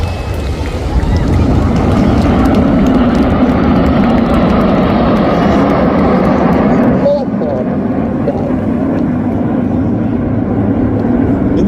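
Red Arrows jets fly past at the Clacton-on-Sea air show with air brakes out, a loud, continuous roaring rumble that fills the whole stretch and eases slightly near the end, with a voice faintly under it.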